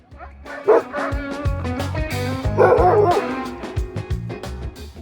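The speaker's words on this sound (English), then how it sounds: "this one had a sled dog kennel right next door" Several sled dogs at a kennel bark and yip repeatedly at close range, overlapping in busy bursts, with some whimpering and faint voices in the background.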